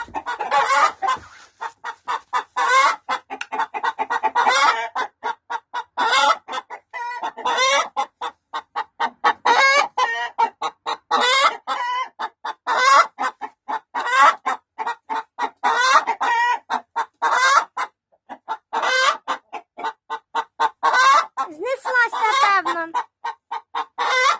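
Hens cluck nearby in a busy, continuous chorus of short, repeated calls, with no pause in the rapid, overlapping clucking throughout.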